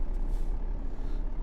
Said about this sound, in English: This truck is far easier to drive when you have some weight on the back of it as well.